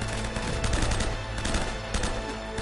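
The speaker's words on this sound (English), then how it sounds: "Oh wait, you're shooting me, huh? I'm gonna shoot you too." Gunfire in an Uncharted game firefight, a steady stream of rapid automatic shots, fairly loud and dense, with several bursts stacking over one another across the whole stretch.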